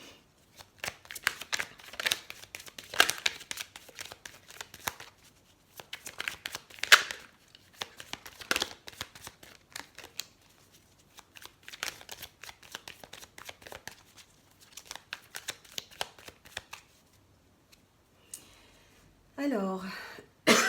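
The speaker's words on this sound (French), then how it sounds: "On va tirer quelques cartes de l'oracle Les Rêves Enchantés de Lenormand pour voir s'il y a des messages supplémentaires." Lenormand oracle cards from the Les Rêves Enchantés deck being shuffled up close, with repeated papery riffling bursts and short pauses spread over twenty seconds.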